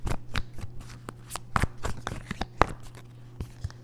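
A deck of tarot cards being shuffled by hand, a rapid run of crisp riffling and snapping flicks with a few sharper slaps, close and fairly quiet, with no talking over it.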